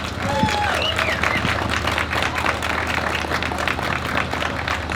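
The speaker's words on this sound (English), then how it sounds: "if you could give a round of applause for her as well" An audience at a school-reopening rally claps for the next speaker, a steady mid-level patter of hands lasting a few seconds with murmured crowd babble underneath.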